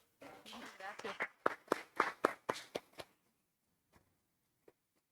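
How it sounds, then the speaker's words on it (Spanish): A small audience at a book presentation gives a short burst of quiet, distinct claps lasting about three seconds. The clapping fades to near silence, with a couple of faint stray claps after. "a quien pido un aplauso"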